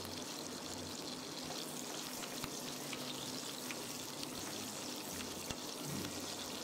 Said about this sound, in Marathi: या लालसर लसणीच्या पाकळ्या झाल्या की त्याच्यामध्ये एक मिरची मी त्याचे तुकडे करून घालते.